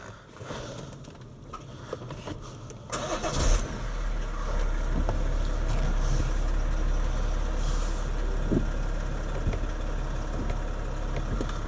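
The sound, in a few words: car engine being started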